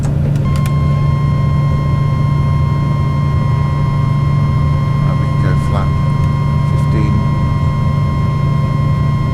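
Pilatus PC-12 turboprop aircraft taking off on a circuit at Courchevel altiport, a loud steady droning engine and propeller hum heard from inside, with a persistent tonal whine and faint clicks over it.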